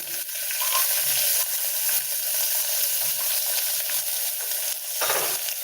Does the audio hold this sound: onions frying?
yes